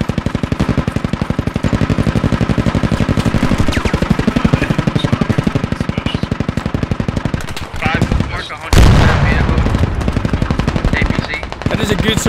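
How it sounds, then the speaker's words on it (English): Rapid, evenly spaced machine-gun fire lays down suppressing fire in the military shooter Squad. It runs loud and nearly continuous, with a brief pause and a heavier burst near the end, and voices talk over it. "is a good suppressing fire"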